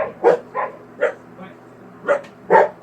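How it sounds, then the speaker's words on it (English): Dogs bark in short, sharp bursts, about six barks spread unevenly over a few seconds. They sound fairly close and are heard alone. "Sorry, dogs are going crazy."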